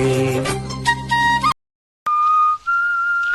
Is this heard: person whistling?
yes